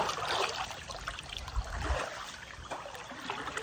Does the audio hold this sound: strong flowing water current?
yes